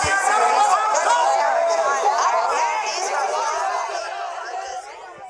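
Dense crowd chatter at an Ole Miss fan rally, a steady babble of many voices at close range that holds loud throughout and eases off slightly near the end.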